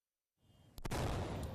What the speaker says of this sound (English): A major explosion on the streets of Venezuela Sunday